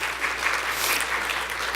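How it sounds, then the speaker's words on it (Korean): Steady audience applause at a corporate cloud media presentation as a guest speaker from MBC is welcomed on stage, a dense wash of many hands clapping filling the short stretch without talk. "큰 박수 부탁드리겠습니다"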